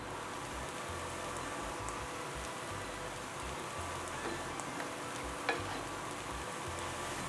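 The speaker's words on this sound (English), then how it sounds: "We'll saute these until the onion becomes clear and slightly browned and the pepper becomes softer." Onion, bell pepper and cooked sausage sauté in a pan with a faint, even sizzle like soft rain, plus a small clink near the end.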